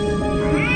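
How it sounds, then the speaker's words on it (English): A cat meows once, a drawn-out, wavering cry that rises in pitch toward the end, close and fairly loud. "Oh, what a precious little kitty."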